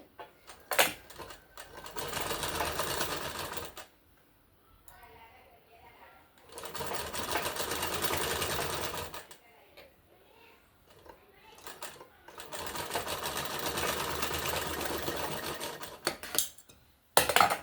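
Sewing machine stitching the neck piece of a garment, running in three long, loud bursts separated by brief pauses with light handling sounds in between.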